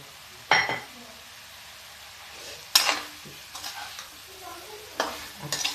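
Fried cauliflower and potatoes with spices stirred in a pan, with a few distinct scraping stirs and soft sizzling between them, fairly close and with no talk.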